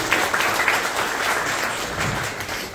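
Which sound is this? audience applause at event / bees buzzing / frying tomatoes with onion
audience applause at event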